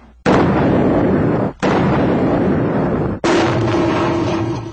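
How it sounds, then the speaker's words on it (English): Three loud explosive blasts from a bomb explosion test simulating a blast near an office, in quick succession, each hitting with a sharp onset and then roaring on for over a second before cutting off. "simulating what can happen to someone if a bomb were to go off near an office"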